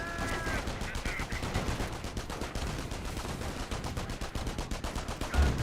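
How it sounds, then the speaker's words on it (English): Rapid gunfire and bursts rattle through a Company of Heroes battle as stun grenades are thrown into a German-held garrison, a dense, continuous crackle of shots with a heavier bang near the end. "Multiple stun grenades into the garrison"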